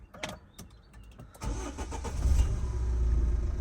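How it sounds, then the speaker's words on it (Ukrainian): A Renault Koleos engine cranks with a few short clicks and catches, then settles into a steady, loud idle close by. "Зараз заведемо автомобіль."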